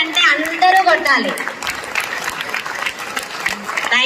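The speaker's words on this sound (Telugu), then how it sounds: "కొత్త వాళ్ళు ఒకసారి గట్టిగా క్లాప్స్, చేతులు పైకెత్తి." An audience claps hard at a housewife leaders' success event, a dense burst of applause with a voice speaking over the start, tapering slightly then continuing steadily.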